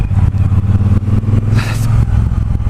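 A 2018 Triumph Bobber Black motorcycle pulls up under braking, its engine rumbling and dropping off with a short scrape and clatter from the bike, loud and close.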